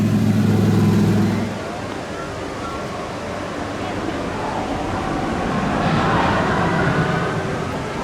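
Small Autopia ride cars at Disneyland Paris in Discoveryland, a low engine rumble that fades after a second into a steady outdoor wash of motor and ambient noise, swelling again briefly later.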